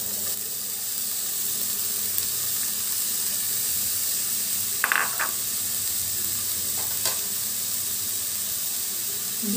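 Chopped cabbage hits a hot pan for momos and sizzles in a steady, close, bright hiss across the whole stretch, with a couple of brief clinks or stirring scrapes partway through and no voices.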